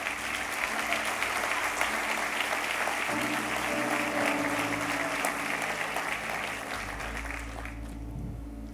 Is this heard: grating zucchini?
no